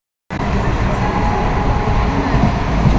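Inside a moving train: a steady, loud low rumble and rattle begins abruptly after a brief silence and continues without break, while a voice talks over it.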